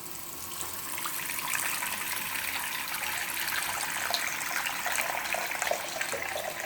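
Water running steadily into a backed-up kitchen sink drain, a continuous close splashing rush with no pauses and no talk.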